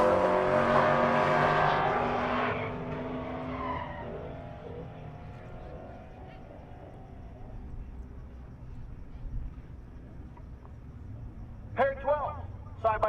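At a drag strip race week, a 2014 Mustang, a Cadillac CTS-V and a Corvette ZR1 launch with a roar and tire squeal, then the engines fade away into the distance while an announcer talks.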